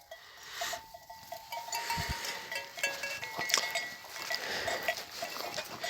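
Goats bleating nearby amid outdoor ambience, with scattered clinks like bells and rustling movement around them.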